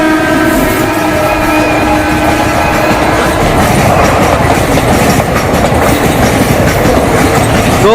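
A train rolls loudly past a railway level crossing at Maigalganj station, Kheri, with heavy rumbling and rhythmic wheel clatter throughout and a horn blast near the start; no voices are heard.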